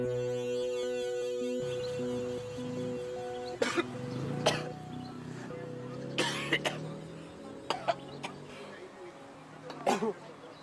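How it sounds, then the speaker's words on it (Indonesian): Several sharp coughs scattered through the clip, close and loud, with a steady tonal hum and some background sound underneath. "gue dari tadi batuk-batuk"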